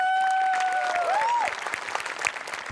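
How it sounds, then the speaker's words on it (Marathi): Enthusiastic crowd applause for a team on a Marathi TV comedy stage show: a dense, steady clapping wash that starts loud and eases slightly after the midpoint, with faint musical tones ringing over the first part. "आपल्या टीमसाठी एकदा टाळ्या वाजल्या"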